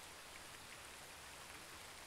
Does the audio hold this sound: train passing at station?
no